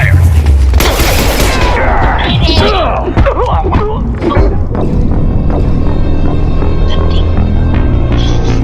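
Heavy gunfire in a Mass Effect 2 firefight, played on Insanity difficulty: loud, dense shots and impacts crackle over a constant low throbbing hum, with sharp cracks clustered early and a steady roar of battle continuing throughout.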